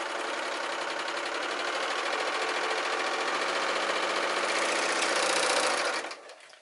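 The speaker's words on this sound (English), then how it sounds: "So we're gonna just go ahead, pop this in and just sew straight down." A sewing machine runs a straight seam through double knit Liverpool fabric. The stitching is a fast, even, continuous whir that holds steady for about six seconds, then winds down and stops.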